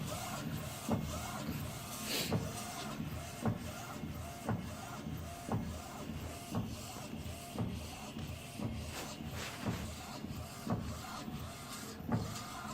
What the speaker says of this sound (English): So the machine will start white ink first, print white ink first.